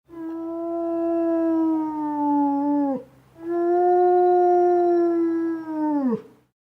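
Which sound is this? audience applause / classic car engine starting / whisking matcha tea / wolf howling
wolf howling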